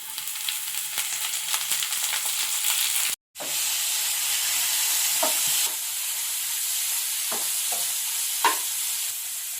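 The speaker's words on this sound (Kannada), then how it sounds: "ಪಾಲಕ್ ಸೊಪ್ಪು ತೊಳೆದ್ಬಿಟ್ಟು ಹಚ್ಚಿಟ್ಕೊಂಡಿರೋ ಪಾಲಕ್ ಸೊಪ್ಪು ಹಾಕೊಳ್ಳೋಣ." Chopped spinach and onion frying in a pan: a steady close sizzle that cuts out for a moment, then carries on with scattered light knocks from stirring.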